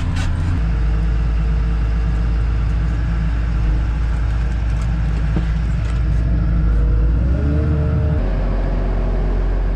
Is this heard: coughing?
no